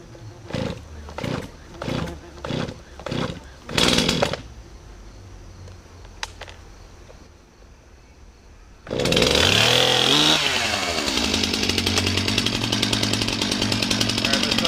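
A chainsaw is choked and pulled several times in short sputtering bursts, then roars to life loudly and runs steadily close by, set to cut open a wild living beehive.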